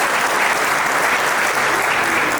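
Dense, steady audience applause fills a talk venue, loud and continuous throughout without a break.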